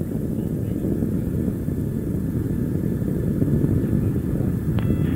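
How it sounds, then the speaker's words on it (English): A NASA rocket launch carrying the Opportunity Mars rover, its main engine and solid rocket motors burning in a continuous deep roar heard from a distance, steady throughout with no voices. "Main engine continues to burn well."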